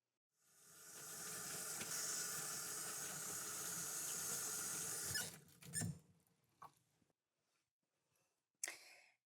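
Tap water runs steadily into a sink as hands are washed, a loud continuous hiss for about five seconds that cuts off, followed by a few scattered squeaks and clatters, then quiet.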